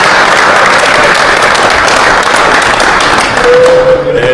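A large crowd at a Ghana Black Stars training session in Philadelphia breaks into loud, dense applause, a sustained roar of clapping with a voice faintly heard toward the end.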